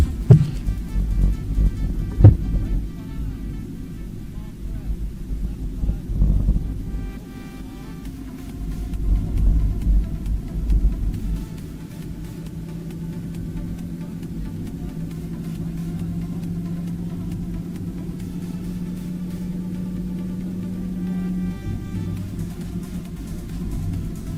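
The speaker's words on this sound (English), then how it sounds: "this is car 101, or that was car 101." Rally car 101 on a stage of the 2026 Prescott Rally, heard as a low engine rumble that swells and fades in the distance, followed by a steady droning hum with no talk over it.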